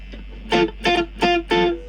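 A guitar played dry through a Cube Baby Pro amp with the reverb switched off gives four short, evenly spaced strummed chords, each cut off cleanly, loud and close, with no spoken voices.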